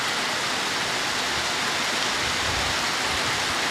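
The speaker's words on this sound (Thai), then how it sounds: "ตกแรงมากเลย" Heavy rain pours down steadily, a dense, constant roar of water without letup and no voices.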